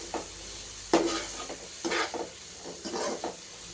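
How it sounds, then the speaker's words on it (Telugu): Coriander powder and garam masala fry in a pan for paneer curry, a faint steady sizzle with a few louder scraping stirs of a spoon against the pan. "ఒక నిమిషం వేగనిచ్చుకోవాలి."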